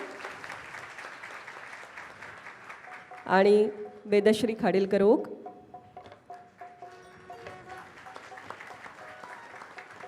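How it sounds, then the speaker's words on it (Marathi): An audience at a Marathi musical tribute evening applauds a singer in a loud two-second burst of clapping, which then breaks into scattered claps; a host speaks over the hall before and after it. "माधुरीसाठी एकदा जोरदार टाळ्यांचा गजर करूया"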